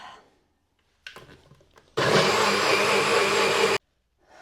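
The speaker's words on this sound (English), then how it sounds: "tofu, milk, cocoa powder, and then the slightly cooled melted chocolate in the NutriBullet, and you just whiz it up" A NutriBullet blender whizzes tofu, milk, cocoa powder and slightly cooled melted chocolate, a loud steady motor roar lasting about two seconds that cuts off abruptly, preceded by faint handling clatter.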